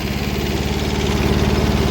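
A Kubota tractor engine runs steadily while digging potatoes, giving a loud, close, continuous low chug with a fast, even pulse throughout, without talk.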